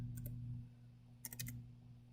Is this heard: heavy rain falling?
no